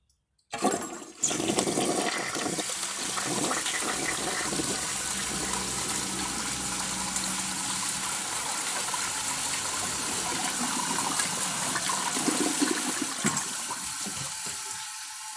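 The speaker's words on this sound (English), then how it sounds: "First, I'll show you the flush of the Cadet." A 1974 American Standard Cadet toilet with its original flush valve and flapper flushes in one long, loud rush of water that churns steadily and then begins to taper toward a refill, close by with no voices.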